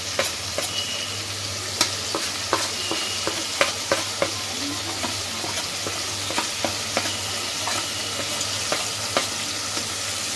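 Spices frying in a pan for a Bengali dhokar dalna, stirred with steady scraping clicks over a continuous close sizzle, with a low hum beneath.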